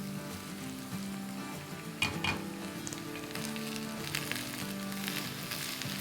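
Potatoes and okra (bhindi aloo) frying in a pan give a continuous, close sizzle with a brief clatter of stirring partway through and a faint low hum underneath.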